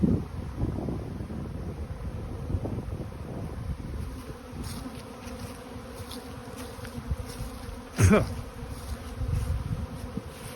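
Honey bees buzz and fly around a beehive on a snowy day, a dense, continuous hum of many insects close by, with wind noise and occasional single bees zipping past the microphone.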